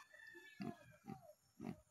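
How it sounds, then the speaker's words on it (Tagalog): A domesticated wild boar mother pig gives three short, close grunts in a slow, uneven rhythm, with quiet moments between them. "Come here Mama Pig"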